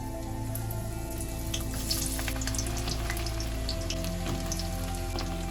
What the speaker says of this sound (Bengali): কড়াইতে প্রথমে আমি পটলগুলো ভেজে নেব।